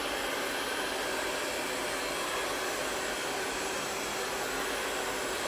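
Heat gun blowing steadily on wallpaper at an outside corner, a continuous loud airy roar with no breaks from start to finish.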